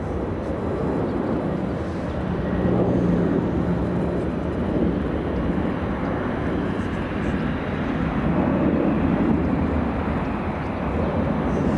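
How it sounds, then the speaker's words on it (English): A Boeing 747 departs from the south side of LAX with a loud, continuous jet roar that rumbles steadily throughout, while people talk faintly underneath. "Look at this big 747 leaving via the south side."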